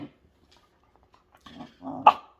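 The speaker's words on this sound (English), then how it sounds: "please do not go barking out there." A dog barking indoors, a low grumbling growl building into one short sharp bark near the end after mostly quiet moments.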